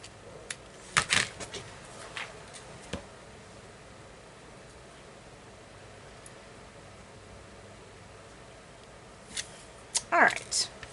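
Scissors snip off excess ribbon from a loopy boutique Easter hair bow, producing a few brief close cuts near the start and a cluster of snips near the end, with quiet handling noise between them.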